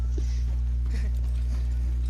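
Horse hooves clip-clop at a steady walking pace while riding in a video game, faint and fairly close over a constant low hum and game ambience.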